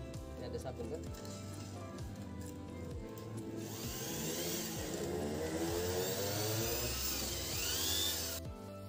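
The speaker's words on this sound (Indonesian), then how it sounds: "disikat pakai sikat yang sudah dimodif di bor" A power drill fitted with a brush whirs steadily, its pitch rising and falling as it scrubs hard scale off a water filter, with a person talking over it.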